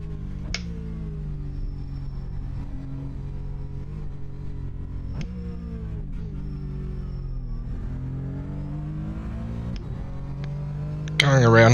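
Porsche Cayman GT4 engine lapping Sandown in iRacing, a steady droning engine note rising and falling through gear shifts, with a few sharp clicks and a sudden louder burst at the end.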